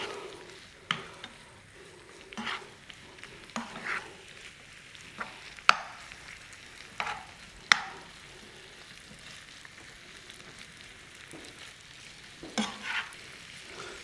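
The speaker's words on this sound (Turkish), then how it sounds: "Eriyen tereyağımızın içine pastırmamızı atıyoruz" Cured pastirma beef frying in melted butter in a pan, a soft steady sizzle broken by scattered clinks and scrapes of stirring, with no voices.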